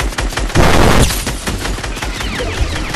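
Gunfire in a video game: rapid, loud bursts of automatic shots crackling close by throughout three seconds, peaking in a heavy volley near the middle.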